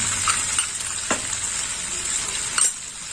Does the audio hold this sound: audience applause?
no